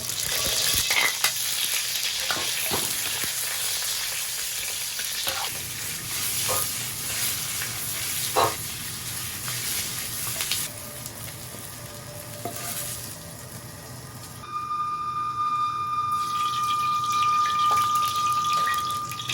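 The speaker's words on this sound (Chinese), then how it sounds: "先把这个午餐肉先稍微过一下油" Luncheon meat frying in oil in a wok, with a steady close sizzle, occasional clinks of a utensil stirring, and a brief patch of running water near the end; no talking.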